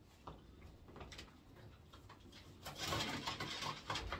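A white homing pigeon coos softly while being handled, with faint low coos and light rustling and patter from close by, and brief handling noise near the end.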